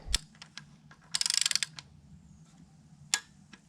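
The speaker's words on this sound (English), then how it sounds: "And now we'll do up these 3 bolts, and that's it." A ratchet clicks in a quick run of tight, rapid ratcheting while bolts on a BMW N55/N54/N52 engine are done up during timing chain work, with a few softer mechanical taps and clanks around it.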